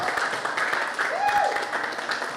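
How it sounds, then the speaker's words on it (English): Crowd applause at a Latin Living Legends celebration night, a dense, even patter of many hands held at a constant moderate level for a few seconds, with a faint tone sliding through the middle. "Give yourself a round of applause."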